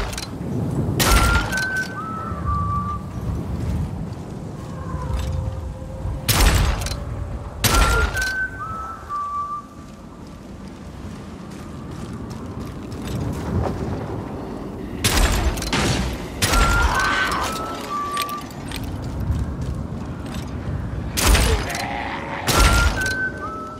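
Heavy gunfire from a revolver or marksman rifle shattering crests in the video game Dying Light: The Beast, sharp loud shots and breaking impacts recurring irregularly across the stretch over a steady game ambience.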